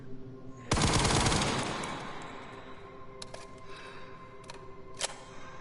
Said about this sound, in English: Looks like we are all good to fire guns.